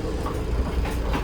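A train stands at a New York station, giving a low rumble and a soft rhythmic clatter, fairly loud and close, with no talk.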